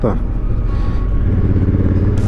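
A motorcycle rides through a city centre on a December evening, its engine rumbling loud and close with a steady low drone and a brief shift in tone near the end.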